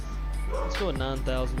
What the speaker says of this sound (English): Apologies for the dogs in the background.